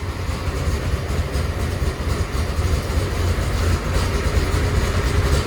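A Doug Rippie Motorsports C4 LT1 Corvette V8 idles warm in closed loop, with a possible spark problem on coil 7. It gives a loud, steady, close low rumble with no break.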